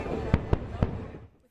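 Three sharp firework bangs burst at a moderate distance during a 4th of July celebration, spaced a fraction of a second apart, each with a short rumbling tail that fades into quiet.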